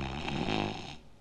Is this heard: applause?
no